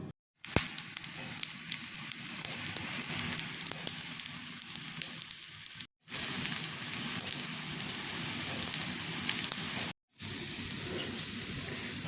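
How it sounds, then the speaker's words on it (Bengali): Sweetened gram-flour fritters fry on a tawa griddle with a loud, continuous crackling sizzle like heavy rain, broken by two brief silent gaps. "এইটা নিয়ে আমি একটু বড়া করব, আর তাওয়াতে করলে একটু মুড়মুড় হবে"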